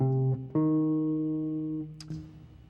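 A jazz guitar sounds an A half-diminished chord, then shifts to a minor flat-five triad, the clean tones sustaining and slowly fading, followed by a faint pick or string noise near the end.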